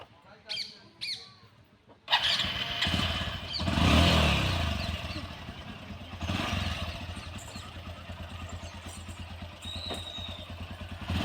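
A motorcycle engine catches and keeps running loudly and steadily after a few brief vocal sounds, with people talking over the ongoing engine noise.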